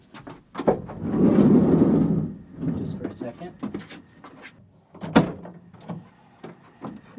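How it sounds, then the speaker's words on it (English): A door is pulled open in a humid room, giving a broad rushing swell of air and movement followed later by a sharp knock, with a person speaking briefly nearby. "I'm going to open a door."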